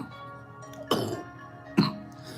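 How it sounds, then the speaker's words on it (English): Two sharp, close coughs, a second apart, from a single person in an otherwise quiet indoor space. "Now I got a cough for sure."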